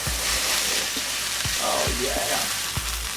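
A salmon fillet, curry-seasoned for serving over jasmine rice, sizzles loudly and steadily in a hot skillet, broken by a few dull knocks as a spatula works under it and turns it, with a brief voice over the top.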